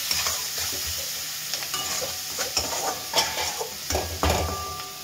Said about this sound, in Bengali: লবণ দিয়ে নেড়ে চেড়ে